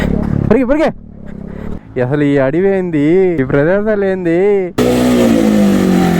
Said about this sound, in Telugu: ఆ సౌండ్ చూసారా? రాయల మీద పోతుండే సౌండ్.